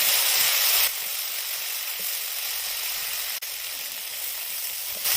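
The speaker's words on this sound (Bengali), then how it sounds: "টমেটো পেস্ট দিয়ে একটু ভাজা ভাজা করব 5 মিনিট।" Tomato paste frying in a pan for Bengali rohu fish kalia, a loud steady sizzle and hiss that drops a notch early on and carries on evenly, with a brief tap near the end.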